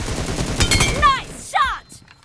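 Gunfire in the mobile battle royale game PUBG Mobile: a loud, close burst of rapid shots followed by a second short volley, with game voice callouts around it.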